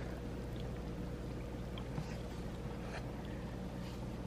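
Water pouring steadily during an aquarium water change for moon jellyfish, a continuous low rushing wash with faint intermittent splashes, close and even throughout.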